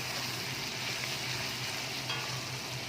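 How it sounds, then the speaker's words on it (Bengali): Tomato with a pinch of salt frying in a pan with onion, cooking down until soft; a steady, close, even sizzle runs throughout with no voices. "টমেটোটা একদম নরম হওয়া অবধি আমি ভালো কষিয়ে নেব"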